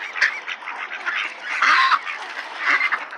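Ducks at a park pond in Reid Park quack in a busy, overlapping chorus of raspy calls, fairly near and continuous with no talking.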